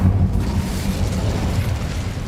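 The Incendio fire spell in a Harry Potter video game, a loud rumbling burst of flame that opens sharply and roars on as a dense, steady whoosh for about two seconds.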